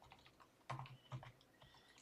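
Quick keystrokes on a new computer keyboard while coding, a few scattered soft clicks followed by two louder clustered taps, close and fairly quiet with no talking.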